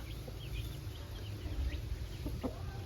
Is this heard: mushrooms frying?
no